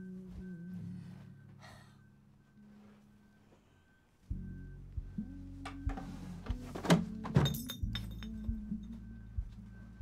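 Objects breaking in a video game as Grandma destroys everything, a burst of overlapping glassy clinks, crashes and clatters over droning game music.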